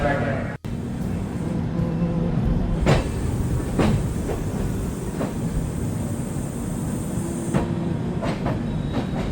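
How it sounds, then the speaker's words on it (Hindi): Janta Express train pulling out of Haridwar station, a steady loud rumble of rolling rail wagons with repeated clacking bursts over track joints, heard from on board. "और अब हम हरिद्वार स्टेशन से आगे की तरफ बढ़ रहे हैं।"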